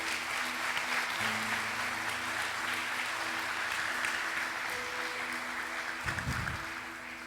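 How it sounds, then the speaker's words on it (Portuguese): Church congregation applauding during a service, fairly soft steady clapping with a sustained background tone and a brief low bump near the end, no talk. "Vamos aplaudir ao Senhor por essas vidas?"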